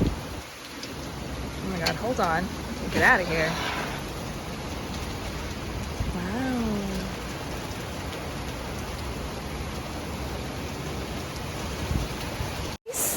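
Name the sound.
heavy rain pouring outside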